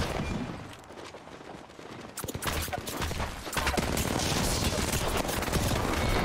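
Apex Legends gunfire crackles in rapid bursts, starting sparse and growing into a loud, sustained barrage of shots near the player.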